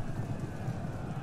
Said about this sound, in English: But they really want to attack my horses.